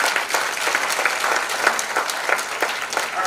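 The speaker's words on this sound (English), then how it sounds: "Let's give them a round of applause." A crowd applauds steadily, many hands clapping together in a continuous, fairly loud patter with no voices over it.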